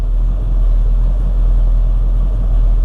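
A 1973 Ford Mustang coupe's engine idles steadily, running rich, with a deep, continuous low rumble, close by and unchanging, with no voices.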